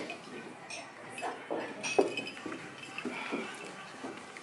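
Glasses clink together during a wedding toast, a scatter of light chinks spread through a noisy room under the murmur of guests talking.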